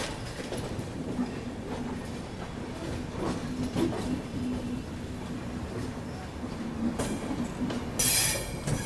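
An AC express train heading toward New Delhi rolls over a diamond crossing where tracks cut across each other. A steady rumble of wheels on rail with scattered clacks is heard from on board, ending in a brief louder screech.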